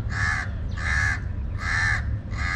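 A crow caws four times in a steady rhythm, loud and close, in the Al Fahidi historical neighbourhood of Dubai with a low background hum.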